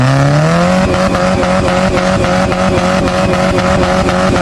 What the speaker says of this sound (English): I swear this exhaust is like a tornado over here